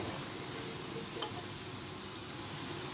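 Mixed vegetables with masala, including cauliflower, potato, beans, spring onion and carrot, sauté in a pan, giving a soft, steady sizzle with faint stirring throughout, quiet and with no talking.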